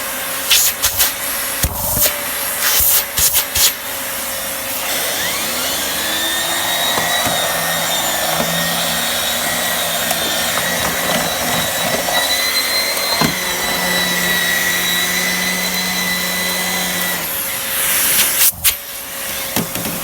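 A Miele Compact C2 vacuum cleaner runs with its turbo brush, a loud, steady whine and rushing airflow that holds for most of the stretch, with knocks and clatter near the start and end.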